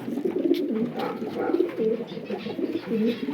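Pigeons coo steadily in a loft housing old-bloodline racing birds, a soft, continuous layered murmur of overlapping low coos from several birds close by.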